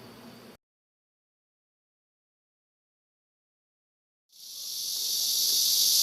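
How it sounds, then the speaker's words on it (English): Thousands of cicadas chirp overhead in the remote Chinese countryside near old architecture, a dense, steady high-pitched buzz swelling in after a stretch of silence and growing louder to the end, with brief murmuring beforehand. "With the sound of thousands of cicada bugs chirping above us overhead"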